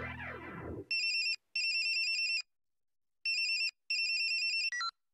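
A mobile phone ringtone plays as four short bursts of bright electronic tones separated by gaps, following a brief rush of other sound at the start.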